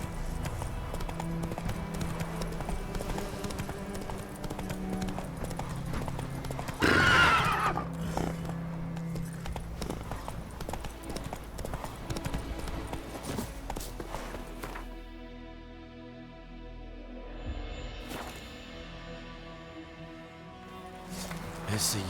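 Hooves clip-clop steadily from the horse Roach in The Witcher 3, with a loud whinny partway through, then the trotting resumes under game music and ambient sound.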